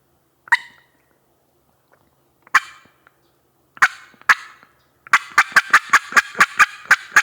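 An Eastern wild turkey gobbles in scattered bursts in hardwood forest, then breaks into a fast run of rattling gobbles, loud and fairly close in an otherwise quiet setting.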